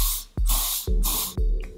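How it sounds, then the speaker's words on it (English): Hairspray sprayed onto hair in three close, loud hissing bursts, each ending with a sharp click of the nozzle, alone without talk. "Just spray some hairspray."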